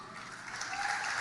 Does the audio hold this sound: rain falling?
no